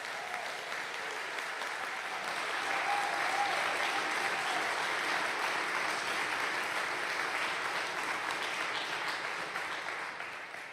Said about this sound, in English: Let's give Dick one more round of applause.